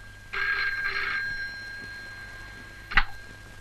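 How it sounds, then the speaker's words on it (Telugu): A telephone bell rings in a dramatic film scene. It sounds as two close, bright rings near the start, followed by a quiet stretch and then a short, sharp click or knock. "నాన్సీ, నీకు ఫోను."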